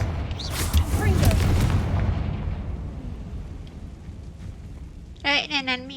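A Confringo fire spell blasting in Hogwarts Legacy, a loud booming explosion that rolls and decays over a couple of seconds, followed by quieter ambience and a brief burst of game sound effects near the end.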